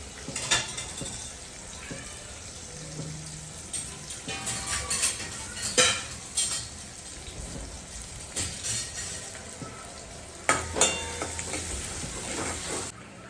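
Onions frying in a pan on a home stove for dal, turning soft and light pink, with faint sizzling under intermittent clinks and scrapes of a utensil against the pan, close and fairly quiet.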